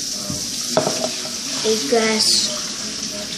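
Cooking in a home kitchen behind a nearby speaking voice, with faint sizzling and the clink of utensils and dishes.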